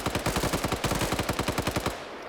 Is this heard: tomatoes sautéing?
no